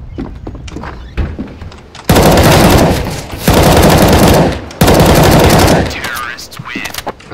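Gunfire rings out in Counter-Strike: Global Offensive, three loud, dense bursts of rapid automatic shots fired at an opponent behind a tree, with quieter game sounds and footsteps between the bursts.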